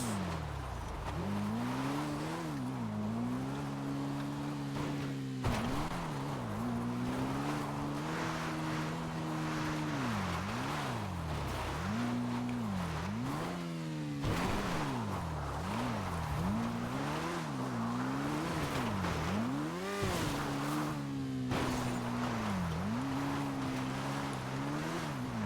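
A car engine in GTA roleplay revs again and again, pitch climbing and dropping in repeated surges, loud and close, with faint tire squeal and no talk.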